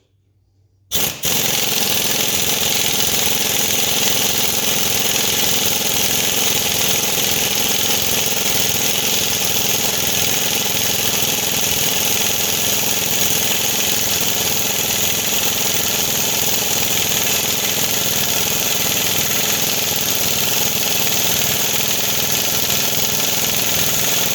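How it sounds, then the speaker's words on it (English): Impact wrench with a 7/8 socket driving a ball joint press to install Caltrac bushings on an S10: after a brief silence, continuous loud rapid hammering rattle runs nonstop and close for the rest of the time. "Handy dandy impact. 7/8 socket on most of these impact or ball joint presses."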